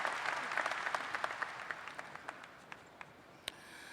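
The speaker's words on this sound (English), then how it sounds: "How about another round of applause for Garrett?" Applause at a college commencement for a speaker named Garrett starts as a lively burst of clapping and thins out over a few seconds into scattered individual claps, fairly faint and distant.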